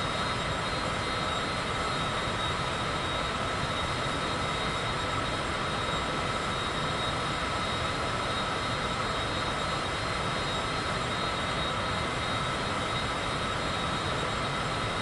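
Airplane cruising at 16,000 feet and 212 knots in Microsoft Flight Simulator 2024 on PS5, a steady broadband engine and wind roar that stays constant and fills the whole stretch with no voices.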